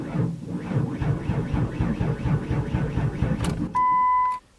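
A 1995 Ford Windstar with a dead battery cranks without starting: a rapid, even, rhythmic churning of the starter for about three and a half seconds, close and loud, then a steady electronic warning chime sounds once the cranking stops.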